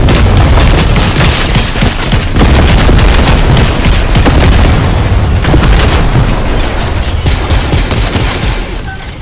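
Loud, dense video game gunfire mixed with booming explosions, a sustained barrage of shots and blasts with no pause, close and heavy throughout.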